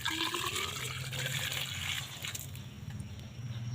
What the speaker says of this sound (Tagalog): Atin pong antayin na bumaba yung tubig at buhusan naman natin.